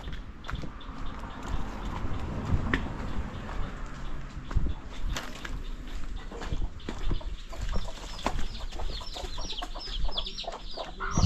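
Chickens and chicks cluck and peep around a rural yard, scattered short calls and bits of rustling at close to middle distance, fairly quiet throughout.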